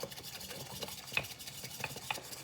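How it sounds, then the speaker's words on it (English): Green tea being whisked with a bamboo whisk: quiet, quick, rhythmic brushing and swishing strokes in a bowl, close and faint, with no voices. "I'm going to whisk this up."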